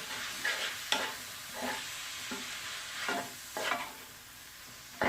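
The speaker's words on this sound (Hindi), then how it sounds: "और अच्छी तरह से मिक्स कर लेते हैं।" Chicken chowmein stirred in a hot pan: a spatula scrapes in repeated strokes about every second over a continuous close sizzle, with no one speaking.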